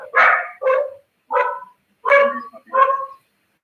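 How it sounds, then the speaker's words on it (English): A dog barks five times in close, loud, separate bursts spaced roughly half a second apart, with clean quiet gaps between each bark and no one speaking. "Why are you hurting a dog?"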